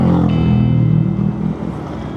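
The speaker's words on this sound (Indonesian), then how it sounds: "ini ada motor lewat nih teman-teman" Motorcycle passing on a foggy, quiet mountain road on the way to Bromo, a loud close engine drone that swells briefly then fades as it moves away, about two seconds long.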